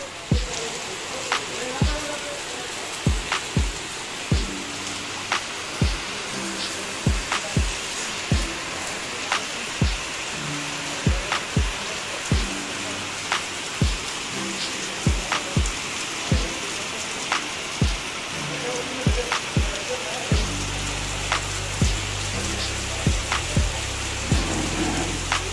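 Heavy rain pours down hard during a group picnic, a loud continuous wash broken by sharp, regular taps about once a second, with a deeper rumble entering near the end.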